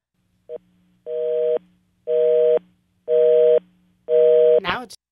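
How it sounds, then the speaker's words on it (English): Telephone busy signal heard on a call back to a number used by IRS tax lien scammers: a short beep, then four steady, evenly spaced tone bursts, each about half a second with equal gaps, ending in a sharp click. "left us with just a busy signal"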